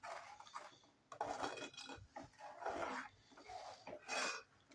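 A spoon stirs grated fresh coconut into a pot of mung dal, giving several bursts of scraping and clinking against the pot with short pauses between strokes, close and fairly clear, with no talk.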